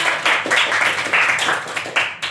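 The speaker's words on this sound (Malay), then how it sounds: "Berikan tepukan kepada dia" A small classroom group of pupils claps for a classmate, a short burst of uneven hand claps close by with a few separate slaps near the end.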